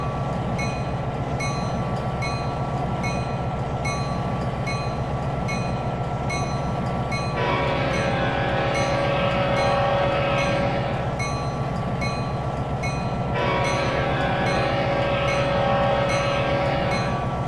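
A train in the video game Trainz 2022 rumbles steadily past a level crossing with continuous rolling clatter, loud and close, as a horn-like tone sounds twice over the rail noise.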